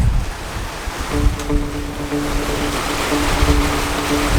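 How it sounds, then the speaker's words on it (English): Ocean waves rush and hiss around a sailboat surfing down swells at speed on an open-sea crossing, with loud steady wind buffeting the microphone and a faint tonal hum from the boat. "We've got some speed on! Oh my goodness! We're just surfing down these waves."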